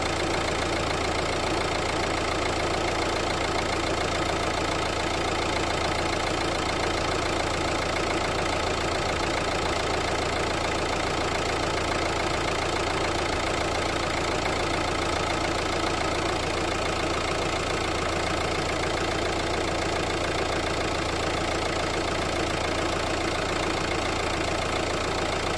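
A Renault Megane III 1.5 dCi diesel engine idles steadily and loudly for a long stretch, with a constant low rumble and even mechanical knocking, close by and unchanging.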